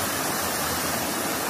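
A small waterfall pours in a continuous, dense hiss and rush of falling water, steady and fairly close, with no voices over it.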